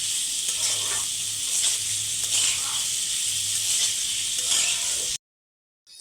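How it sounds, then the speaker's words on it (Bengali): Onions fry with salt in a pan in a home kitchen, giving a loud continuous sizzle and hiss with light stirring scrapes before the sound cuts out abruptly near the end. "তার উপর একটু লবণ দিয়ে ভেজে নেব।"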